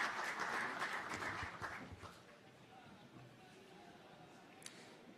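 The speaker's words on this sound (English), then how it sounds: "Please, a big round of applause" Audience applause at a tech conference in Buenos Aires, a dense burst of clapping that fades out after about two seconds, leaving quiet room tone and faint murmur.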